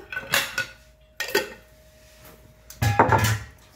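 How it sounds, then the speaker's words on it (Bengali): Ghee spooned into a cooking pan at home, giving a few separate clinks and scrapes of a metal spoon against the pan, close and fairly quiet, with short pauses between them. "আমি আন্দাজেই এই 1 চামচ, এই 2 চামচ ঘি দিলাম।"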